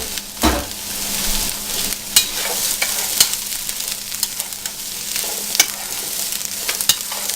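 Beets and cabbage sizzle and hiss in a pot for borscht, a steady close crackle with occasional clinks and stirring knocks, no talking.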